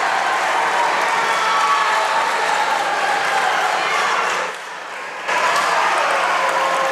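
A huge crowd roars continuously at a volleyball tournament final between Knox County Central and Leslie County, loud cheering filling the gym with a brief dip midway before swelling again.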